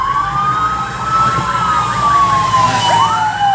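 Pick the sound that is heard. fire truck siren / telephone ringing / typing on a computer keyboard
fire truck siren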